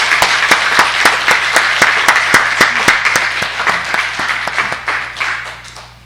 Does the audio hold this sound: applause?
yes